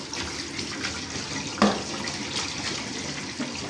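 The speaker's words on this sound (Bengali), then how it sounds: "আমি ঠান্ডা পানি ছেড়ে দিলাম টেপ থেকে।" Cold water runs steadily from a kitchen tap into a sink, a continuous close hiss and splash with one slightly louder splash partway through, with no voices.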